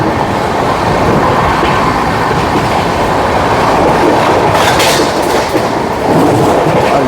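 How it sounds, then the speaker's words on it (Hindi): Heard from on board, the Odisha Sampark Kranti express rushes along at about 130 km/h, a loud, continuous roar of wheels and rails with brief higher rattles near the middle. "की रफ्तार पकड़ी हुई है ट्रेन ने हमारी"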